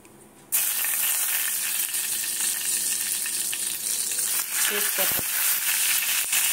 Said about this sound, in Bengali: তেজপাতা গোটা গরম মশলা দিয়ে দিলাম